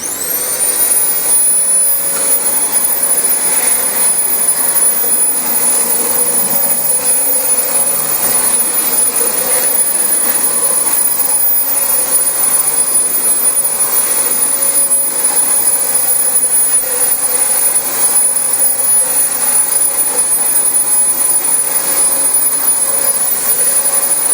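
A Dyson DC25 upright vacuum cleaner, six years old, runs continuously with a loud steady motor roar and a high constant whine, unbroken for the whole stretch with no talk.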